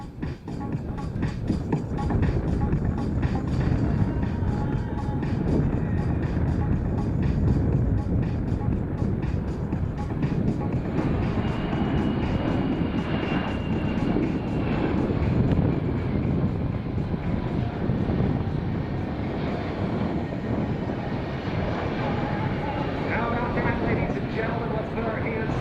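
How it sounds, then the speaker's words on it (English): A Boeing KC-135 Stratotanker and a C-17 Globemaster III fly together at an airshow in Rochester, New York, giving a sustained, loud jet roar that swells and shifts as they pass, with a commentator speaking over it. "The Boeing KC-135 Stratotanker, the Boeing C-17 Globemaster 3"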